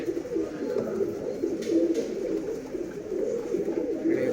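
A Girebaaz meter gauge tiraval male pigeon coos in a continuous low, throaty, rolling rumble, close up and steady with slight swells.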